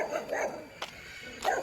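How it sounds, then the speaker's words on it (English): Dogs bark along a residential street in Georgetown, Guyana, several sharp close barks in quick bursts with short gaps between them. "Oh, some more dogs."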